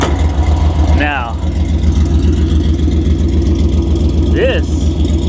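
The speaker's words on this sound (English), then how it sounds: "this has 3-inch exhaust. I believe that's a Flowmaster muffler." A Scat Pack car with a 3-inch exhaust and Flowmaster muffler idles with a deep, steady exhaust rumble close by, its low throb continuous throughout, with a couple of brief voice-like chirps above it.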